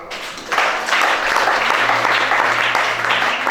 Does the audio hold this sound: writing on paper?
no